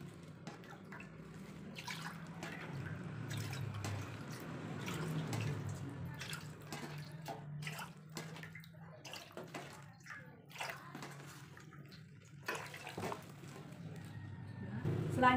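Clean water being poured into a basin to mix with disinfectant for chemical high-level disinfection of instruments, with faint splashing and drips, quiet and intermittent, ending a little louder.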